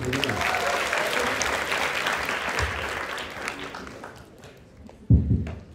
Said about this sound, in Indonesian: kasih tepuk tangan buat Yusuf.